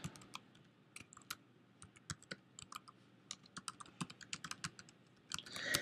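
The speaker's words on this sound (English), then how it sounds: "I'm then going to type in an email address." Someone types on a computer keyboard, a quiet, irregular patter of key clicks in uneven bursts, close by with no talking.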